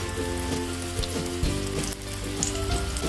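Oil sizzles steadily in a pan as stuffed mackerel (bangda) fries, a close, continuous crackling hiss with small pops throughout.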